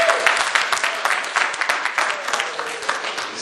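Audience at a poetry show clapping, a dense, lively burst of many hands with uneven accents, fairly close and loud throughout and tapering slightly at the end.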